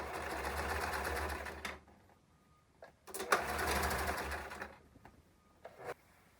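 A sewing machine stitches a fabric seam for a dress in steady close bursts, running for about two seconds, pausing, then running again before a few short final spurts.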